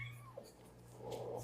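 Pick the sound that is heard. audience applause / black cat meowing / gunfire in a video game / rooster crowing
black cat meowing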